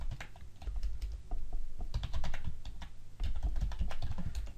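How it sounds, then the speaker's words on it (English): Rapid typing on a computer keyboard, a steady stream of close, crisp key clicks with uneven rhythm and no voices. "Let me just type them down."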